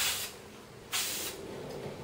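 Two short bursts of aerosol hairspray hiss onto a person's hair while it is slicked back for a hair fall, each spray a bright, close, breathy rush fading out, followed by a fainter third puff.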